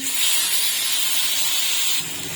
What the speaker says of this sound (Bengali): মাছগুলো আগে উল্টে পাল্টে ভালো করে ভেজে নিচ্ছি।